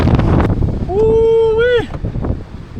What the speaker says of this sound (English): Oh, that wind is so cold. It's like 100 km/h winds right now.